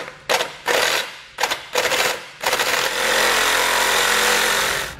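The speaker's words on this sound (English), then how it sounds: "So you can use a reciprocating saw or a cutoff wheel, whatever you've got available, to trim this off." A reciprocating saw or cutoff wheel trims a part off a 2020 Buick Envision during a base plate install, starting in several short loud bursts before settling into one steady, continuous cutting run close by.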